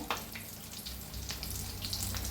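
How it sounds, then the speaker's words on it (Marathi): Vada frying in hot oil for vada pav, turned to cook on both sides, giving a steady close sizzle with crackling bursts and a low background hum. "तर छान असं दोन्ही साईडने तळून घेऊया."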